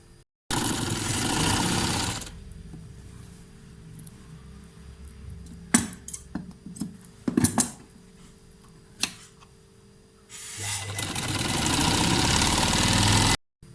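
An electric sewing machine stitches a capri trouser seam, running in two loud steady bursts at the start and end, with quieter handling clicks and rustles between them and no talk.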